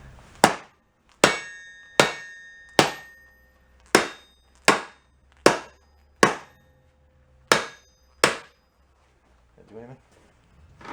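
A hammer rings on a barn-find anvil in a shop, driving spikes down into a stump: about eleven sharp, loud metallic strikes at a steady pace, each leaving a brief ringing tail, with a short pause and a faint knock near the end.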